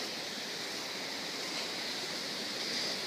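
Stream water runs steadily along a trail leading to the Córrego Rico waterfall and past a small footbridge, making a constant quiet broadband rush with no voices.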